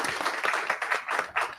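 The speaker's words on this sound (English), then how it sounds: "Quick round of applause for that first question." Audience applause in a university hall during a district candidate forum, a short burst of steady clapping from a crowd that holds fairly level, then fades.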